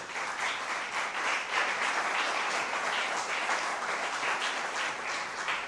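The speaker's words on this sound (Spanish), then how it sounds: "Denle un aplauso gigante a Dios" Church congregation applauding during a Sunday service, a loud, continuous wash of many hands clapping that holds evenly from start to finish.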